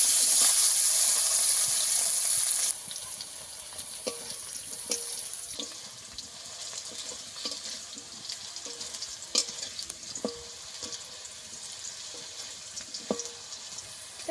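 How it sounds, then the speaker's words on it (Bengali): Bhetki fish pieces coated in salt and turmeric frying in oil, with a bright hiss at the start that drops to a quieter sizzle broken by scattered pops and crackles, and no speech. "এটাকে কিন্তু লবণ হলুদ মাখিয়ে ভালো করে একটু ভেজে নিতে হবে"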